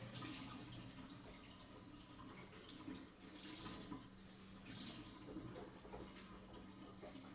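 Tap water runs steadily into a sink to wet a cloth for covering Neapolitan pizza dough in a cold home kitchen, a soft continuous splashing stream with a few brief louder surges, fairly quiet and alone.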